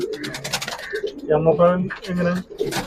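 A mother pigeon among a team of racing pigeons, giving a few close, low cooing calls under and between people talking.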